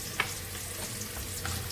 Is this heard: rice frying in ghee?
yes